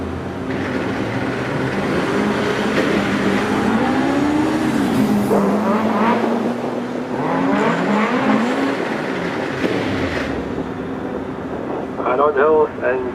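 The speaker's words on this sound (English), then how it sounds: "is Jock Ramsey in this bright orange Opel Manta" A bright orange Opel Manta race car climbs a hill climb course, its engine droning steadily and rising in pitch through the run, with a commentator talking over it throughout.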